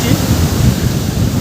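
Surf washes in at Puri beach, a loud close roar of waves mixed with heavy wind buffeting, with no clear speech.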